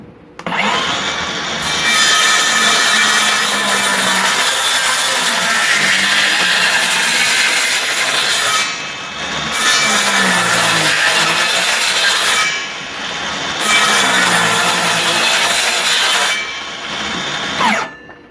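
A power saw cuts wood for raised garden beds, its loud, continuous grinding buzz running in long passes broken by three short pauses, the cut close and dominant with no voices.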